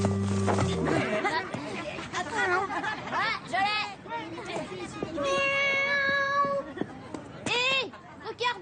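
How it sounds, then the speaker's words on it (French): A small kitten stuck up in a tree meows repeatedly in drawn-out, rising cries, fairly loud and close, mixed with animated voices and chatter. "Il y a un petit chat trop mignon dans l'arbre, il est coincé, il peut plus descendre."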